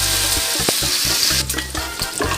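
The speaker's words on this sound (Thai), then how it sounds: "พอน้ำมันออกจากตัวหมู หมูมีสีสวยแล้ว" Pork sizzles and spits steadily in hot oil in a pan, a loud, continuous close-up frying hiss with occasional stirring clatter.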